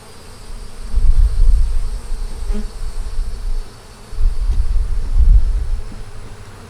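Honeybees buzz close by around an open hive in swelling, droning waves, loud then fading and returning, with no voices.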